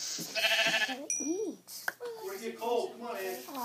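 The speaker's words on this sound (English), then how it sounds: "We're gonna have to get some sheep" Sheep in a video game bleat in short wavering calls, several in a row, with a voice talking over and between them.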